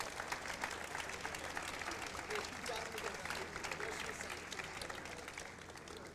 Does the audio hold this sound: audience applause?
yes